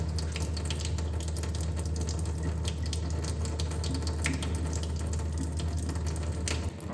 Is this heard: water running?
yes